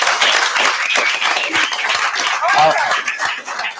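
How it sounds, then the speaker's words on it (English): A live audience at a firefighter mental-health podcast taping applauds steadily throughout, with dense clapping and scattered laughter and chatter mixed in. "I thought we were clapping."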